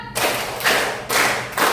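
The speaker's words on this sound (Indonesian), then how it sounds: "kita tepuk 2, tepuk 4" A classroom group claps together in a steady rhythm, about four broad, close claps spaced evenly, with no talking over them.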